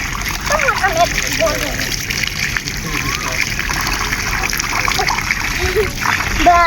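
Fresh river water splashes and sloshes close by in a forest setting during the rainy season, irregular and lively, with a person and someone talking over it.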